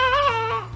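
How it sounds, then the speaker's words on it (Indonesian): A goat bleats once, close and clear, a short wavering cry of under a second, from an educational animal toy. "Kayak mana bunyi kambing?"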